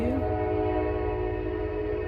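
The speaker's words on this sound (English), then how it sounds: "we can hear the train at our house" A passing train blasts its horn in one long, loud, sustained chord over a deep rumble, heard from near a house.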